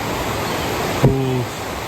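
A river with pools and waterfalls flows in a steady broadband rush, with a brief tonal sound cutting in midway.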